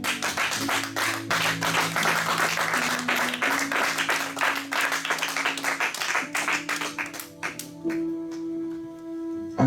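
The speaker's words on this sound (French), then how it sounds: "Acclame-le encore fortement." Church congregation at worship applauding in a dense, rhythmic burst of clapping, with sustained organ or keyboard tones underneath that linger as the clapping thins out at the end.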